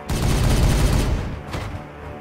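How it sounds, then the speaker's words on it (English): Dense, booming gunfire from the video game Regicide, a loud sustained burst of overlapping shots that thins out toward the end. "Firing on target!"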